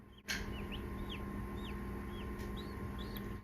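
Faint, high-pitched peeping chirps from chicks inside pipping eggs repeat irregularly over a steady mechanical hum from a fan, after a brief knock at the start.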